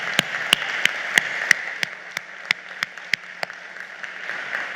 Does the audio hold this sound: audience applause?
yes